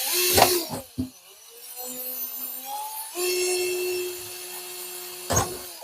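An electric drill whines up in pitch, then holds a steady high drone as it bores holes in the bottom of a 2-liter plastic pop bottle, with thumps and clatter at the start and end.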